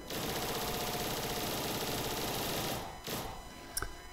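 A gun in the video game Roblox Zombies fires a long, loud, rapid-fire burst of evenly spaced shots for nearly three seconds, then stops, with a few scattered clicks and thuds afterward.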